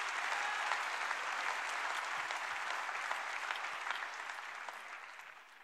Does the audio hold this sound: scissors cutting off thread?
no